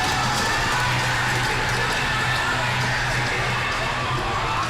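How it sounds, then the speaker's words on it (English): Arena crowd at a junior hockey playoff game in Seaforth roars steadily right after a goal, a dense wash of cheering and shouting that stays loud throughout. "And the crowd loves it here in Seaforth"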